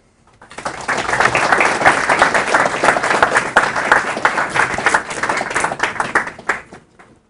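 An auditorium audience applauds as lecture speaker Susan Haack is welcomed; the clapping swells within half a second, holds as dense, steady applause for about six seconds, then fades out.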